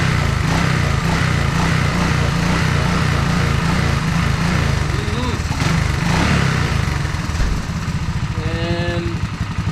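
A Honda ATC185S three-wheeler engine fitted with a Mikuni carburetor runs close by with a loud, steady putter and a slight uneven rhythm. Someone talks over it.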